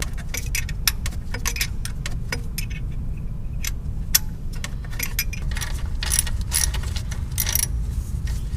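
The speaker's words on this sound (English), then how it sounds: "Now comes the daunting task of tightening them all with a stubby little 11mm wrench." A stubby 11mm wrench tightens shorty header bolts on a Dodge RAM 1500, close metallic clicks and clinks in quick irregular clusters over a constant low rumble, no talking.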